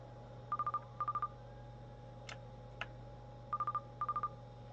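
A cell phone rings inside a drug-dealing video game: four groups of short, evenly spaced electronic trill bursts, each a quick run of chirps, over a steady low hum, with no voices.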